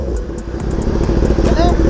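A Kawasaki ZX10R with a race exhaust runs close and loud at a steady rumble, with a few quick sharp pops from backfiring as voices talk over it.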